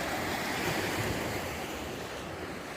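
Sea surf washing steadily onto a beach, a broad continuous roar with some wind noise on the microphone, close and fairly loud, with no one talking.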